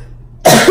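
A person coughs sharply, loud and close, after eating spicy home-cooked shrimp, one burst of coughing following a quiet moment.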